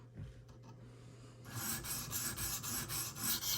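A Smith & Wesson Extreme Ops knife blade being stroked along a higher grit sharpening stone, a quiet rasping rub that swells after a brief hush into steady back-and-forth strokes close by, with no talking.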